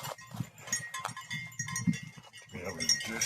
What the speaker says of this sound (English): have a herd of pack goats